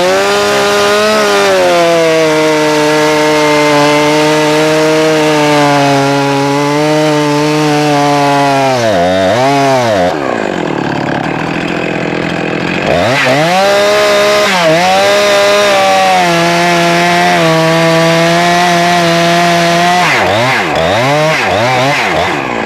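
A Husqvarna chainsaw cuts into a tree during felling, its engine droning loud and close at high revs, dipping and climbing in pitch as it bites into the wood, with one brief drop toward idle.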